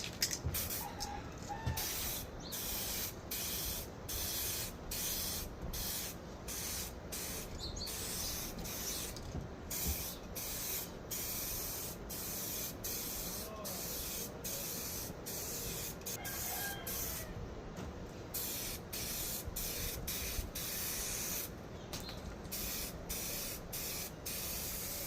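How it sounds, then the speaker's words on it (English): Repeated bursts of spray hiss from an aerosol can onto taped headlights of a 1991 Honda CRX, close up, in short regular passes with brief gaps between them and no speech. "now we are ready to spray."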